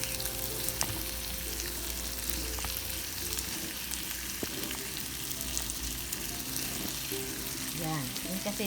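Shrimp sizzle in a hot pan for a mung bean stew with squash and bitter melon, giving an even, continuous frying crackle with occasional light stirring knocks and a brief scrape near the end.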